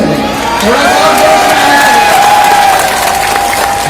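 A crowd at a live poetry recital of a nazm claps and cheers loudly and steadily for a few seconds, with whoops and shouts rising over the dense clapping.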